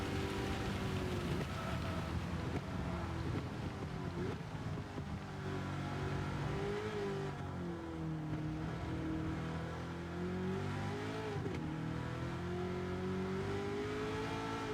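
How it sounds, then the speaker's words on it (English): Heavy rain in a Gran Turismo 7 endurance race at Le Mans, hissing steadily beneath the droning, shifting engine note of a Chevrolet Camaro ZL1 1LE race car as the throttle is feathered. "there's no letting off of this rain"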